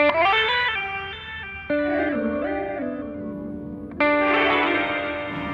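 EarthQuaker Devices pedal on NAMM 2020 show floor, stepping through pitched synth-like notes quantized to a major scale, with short sequenced phrases in gliding steps and sudden resets, effected with echo and chorus.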